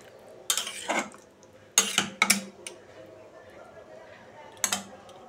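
Aloo dum being served from a cooking pot with a spoon: a few quick metallic clanks and scrapes against the pot in short clusters, separated by quiet gaps in a home kitchen.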